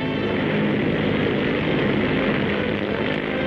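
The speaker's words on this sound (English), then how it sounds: "as the Douglas Super Bomber B-19 takes off" A Douglas XB-19 super bomber taking off at Santa Monica, California, before a large crowd: a steady, loud, broadband propeller-engine roar that holds without a break, with no speech.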